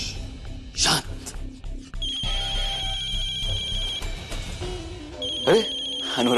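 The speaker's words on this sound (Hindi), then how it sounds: "अरे अनुराग भैया का फोन है" A telephone ringtone sounds an incoming call during a tense Hindi TV drama scene, a steady electronic tone over background music, with voices briefly heard before the ring.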